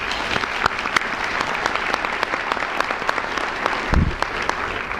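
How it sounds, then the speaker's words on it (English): An audience applauds scholarship award winners with steady, dense clapping that holds at an even level throughout, with a brief thump near the end. "the young scholarship award winners deserve a round of applause,"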